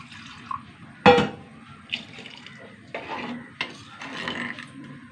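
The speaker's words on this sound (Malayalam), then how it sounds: "കുറച്ചും കൂടി വെള്ളം ഒഴിച്ചു കൊടുക്കാം" Water poured into a pot of Kerala-style mango curry, heard as a short splashing pour with scattered clinks and stirring afterward, close and moderately loud, with no one talking.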